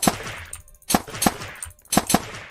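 Paintball gun firing in an infection-mode shooter game, four sharp punchy shots in an uneven rhythm, close and loud, with brief gaps of near silence between bursts.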